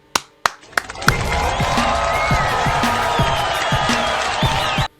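A few sharp single claps open the sound, then a crowd breaks into loud sustained applause mixed with cheers and whoops. The noise holds steady and then cuts off abruptly.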